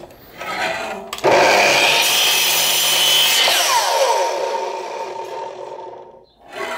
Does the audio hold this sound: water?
no